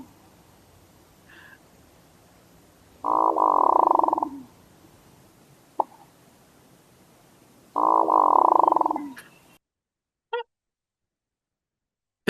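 Male hooded mergansers give their frog-like courtship call in two loud, low croaking bursts a few seconds apart, each about a second long, with a faint click between them and near silence after.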